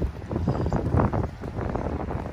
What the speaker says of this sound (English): it is pretty darn windy up here right now